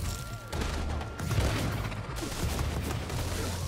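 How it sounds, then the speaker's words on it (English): DUP troopers in inFamous: Second Son fire a near-continuous hail of gunfire with heavy low thuds and booming impacts mixed in. The volley is loud and sustained, and nobody speaks. "Stop shooting me!"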